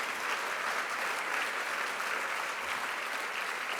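Steady applause from a luncheon audience fills the room, a dense continuous patter of many hands clapping at even strength without a break.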